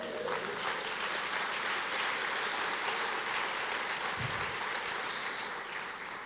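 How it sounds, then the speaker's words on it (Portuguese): A church congregation applauding, a steady even roar of many hands clapping that holds for several seconds. "Quantos podem dizer glória a Deus e aplaudir o Senhor?"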